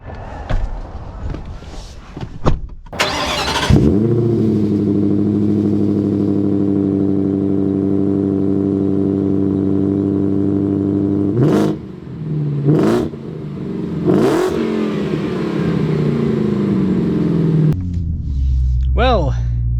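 A 2025 Ford Raptor R pickup starts up and settles into a loud, deep, steady idle rumble, followed by several sharp throttle blips and revs, with a short burst of talk at the end.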